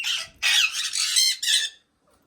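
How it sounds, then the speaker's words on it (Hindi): A cockatiel squawking close by, several harsh, shrill calls in a row, the last one shorter, then quiet. "ये मेरे पास एक और कॉकटेल है।"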